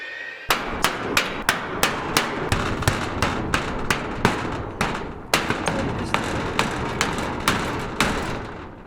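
Riveting on a metal garage door: sharp, loud impacts repeat in a steady rhythm of about two per second, close to the mic, with no voices.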